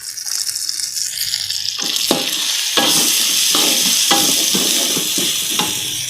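Minced meat and whole spices such as star anise, cardamom, turmeric and coriander fry in a pan for Minangkabau gulai, a loud steady sizzle broken by repeated scraping strokes of a spoon stirring through it.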